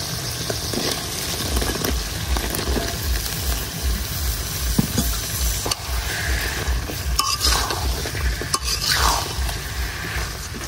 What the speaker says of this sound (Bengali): তো আলুগুলা দিয়ে দিতেছি, বেগুন গুলাও দিয়ে দেম।